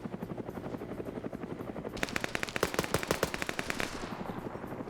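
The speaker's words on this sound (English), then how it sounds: "But I think Nuzzy just shot him" Gunfire in a modern-day military video game PvP match, a rapid automatic burst of many shots in the middle over a constant rotor-like drone, fairly close and loud.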